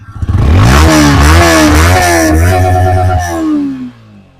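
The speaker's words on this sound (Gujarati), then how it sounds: "મિત્રો એક જ સ્ટાર્ટ થઈ ગઈ છે ગાડી" A Yamaha R15 V4 sport motorcycle engine runs loud and close, revving up and down in several short bursts before dropping back toward idle.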